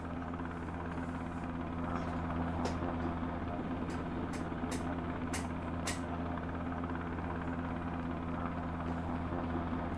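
A helicopter in a firefighter simulator video game drones as a steady low rotor hum throughout, with a few faint clicks and taps in the upper range, and no talk.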